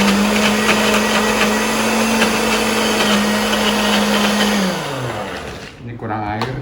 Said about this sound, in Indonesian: Kita mulai blender ya.